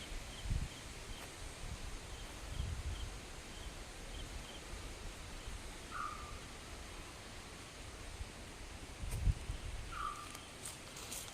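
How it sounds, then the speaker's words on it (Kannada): Steady wind rushes through areca palms and other trees, leaves rustling continuously, with a few low gusts and faint distant bird chirps. "ಯಾವ ಥರ ಗಾಳಿ ಬೀಸ್ತಾ ಇದೆ ನೋಡಿ"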